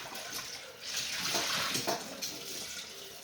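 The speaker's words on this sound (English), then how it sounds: "Let me see if I can just rinse that out quick." Running tap water splashes into a flour-dusted container as it is rinsed out, a steady close hiss of flowing water that swells in the middle, with no talking.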